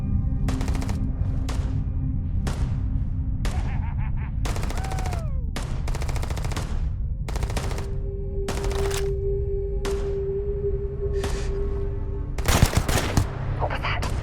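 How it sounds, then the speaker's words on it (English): Gunfire rings out in the video game Starfield, with repeated sharp bursts and single shots at uneven intervals. A steady tonal drone sits underneath and a louder cluster of shots comes near the end. "What are they shooting at?"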